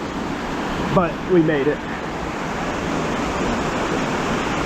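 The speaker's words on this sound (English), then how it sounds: "we made it to the river, flowing out of the mountains" Steady rushing water from a river flowing out of the mountains runs throughout as a constant broadband wash, while someone speaks briefly over it.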